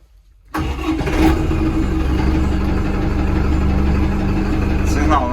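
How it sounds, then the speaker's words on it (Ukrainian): ENEY TE504C tractor engine cranking and catching after a moment of quiet, then settling into a steady, close diesel idle rumble, with a voice speaking over it. "Витискаємо щеплення, заводимо."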